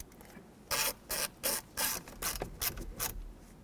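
A ratchet tightens the screw on a combination switch under the steering column of a 1995-2004 Toyota Tacoma, giving about eight short clicking bursts in quick succession, close and fairly quiet.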